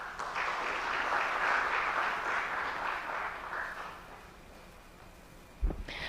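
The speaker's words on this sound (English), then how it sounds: "So please give another round of applause to Mr. Prince Machika from Real Estate Talk Malawi." Audience applause at a real estate engagement meeting in Mzuzu, Malawi, moderate and fairly distant, swelling then tapering off over several seconds, ending with a brief thump.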